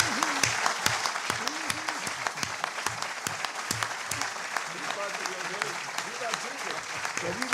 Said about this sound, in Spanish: vamos a darle un gran aplauso a Antonio por habernos visitado